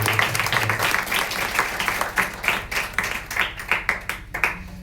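A church congregation applauds together, a dense wash of clapping that breaks into rhythmic, pulsing claps as it fades toward the end, with a brief tone underneath at the start.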